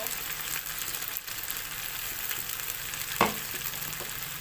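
Morning glory and canned fish stir-frying in a pan, a steady close sizzle with faint stirring scrapes and one brief clank of a utensil against the pan.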